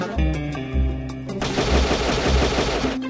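Rapid gunfire from a weapon in the video game Cactus McCoy, starting as a few short bursts and then turning into a continuous stream of loud, close shots lasting about three seconds.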